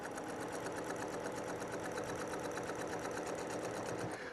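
A sewing machine runs continuously while free-motion quilting straight lines of an X pattern, a steady fast mechanical stitching hum and clatter, close and even, stopping at the very end, with no talking.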